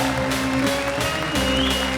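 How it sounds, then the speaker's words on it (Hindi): An audience claps at a Holi comedy show, producing a dense, loud wash of applause that fills the whole moment, with a sustained tone underneath. "तुम भी ताली बजाओ।"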